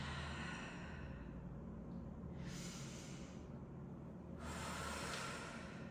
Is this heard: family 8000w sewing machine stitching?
no